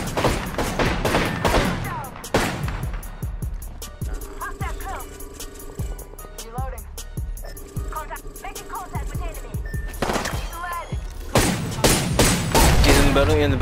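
Apex Legends firefight with loud bursts of rapid gunfire at the start and end, and a quieter middle stretch with rhythmic shots and game effects, while a player talks over the action.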